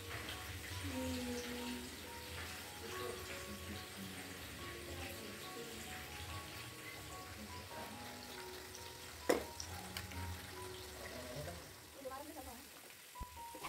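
Chilies and tomatoes sizzle in hot oil for sambal in a home kitchen, a steady crackling hiss that runs throughout while someone talks over it.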